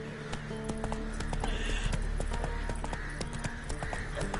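Horse galloping in The Witcher 3 game, a fast, loud clip-clop of hooves rolling on continuously with a whinny and a dense game soundscape behind.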